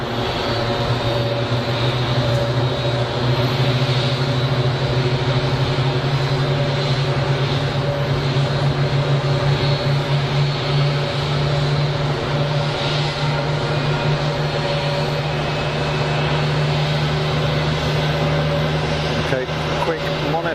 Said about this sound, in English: Listen to the different noise from the IAE 2500 versus the Leap.